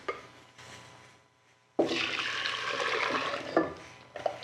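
Pastry cream mixture is poured back into a pot in one sustained splashing, gurgling pour lasting about two seconds, with softer handling sounds before it and a short clatter at the end, close by and without speech.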